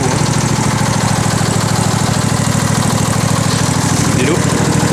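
A John Deere tractor engine idles after winter storage and a spring restart, a loud, steady, low rumbling drone with an even pulsing rhythm that carries on without a break.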